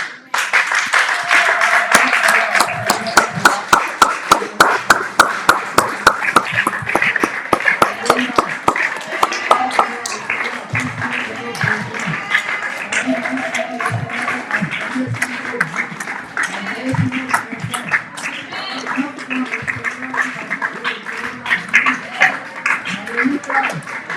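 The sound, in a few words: congregation applauding the Lord in church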